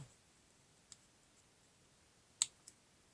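A few sharp, quiet plastic clicks from a craft cutter's slider, spaced apart in near silence, with one louder snap followed by a lighter click.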